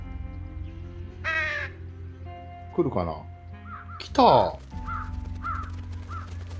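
Crows caw in the video game Truberbrook, several loud, harsh calls spaced a second or so apart over a low ambient hum, followed by softer distant caws, while a person speaks briefly.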